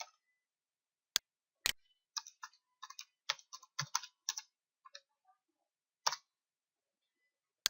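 Contact details being typed into a form on a computer keyboard: quiet, close keystrokes in short irregular bursts with gaps, a few isolated sharper clicks, no speech.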